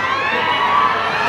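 Fans at a beauty pageant cheering for a contestant, a dense, sustained roar of shouting voices and whoops at close range, steady and loud throughout with no single speaker standing out.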